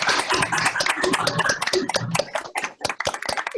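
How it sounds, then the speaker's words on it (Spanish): Audience applause at a naval history event, a dense burst of many hands clapping up close that thins into scattered claps toward the end. "Yo quiero pedir a todos los participantes un fuerte aplauso para Michelle"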